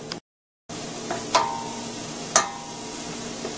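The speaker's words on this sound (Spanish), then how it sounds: "Vamos a dorar aquí la cebollita y el ajo." Onion and garlic sizzle gently as they brown in a pan, a steady frying hiss with a couple of light utensil clicks, after a brief silent gap at the start.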